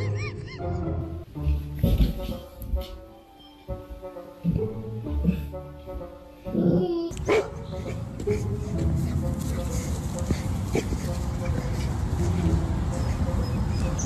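A golden retriever barks and whimpers in short yips and whines near the microphone, mixed with people talking and laughing, then a louder burst of noisy voices takes over.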